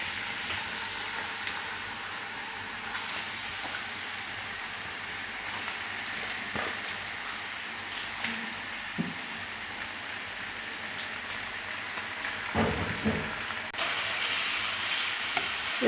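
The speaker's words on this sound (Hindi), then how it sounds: "इसको फ्राई करना हमने चिकन को अच्छी तरह" Chicken frying in a karahi for green chicken karahi, a steady soft hiss and crackle like light rain throughout, with occasional clinks and a stir near the end, no voices.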